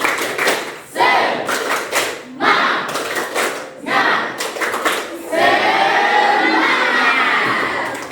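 Students in a classroom perform the tepuk semangat ice-breaker, clapping together in sharp rhythmic bursts separated by brief pauses, with shouted chanting, ending in a longer sustained burst of clapping and cheering.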